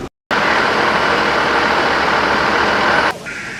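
A work truck rolls past close by, its engine a loud steady roar that cuts off abruptly near the end, leaving a quieter hum.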